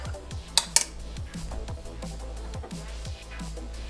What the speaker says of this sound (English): And I'm gonna pop the lid on.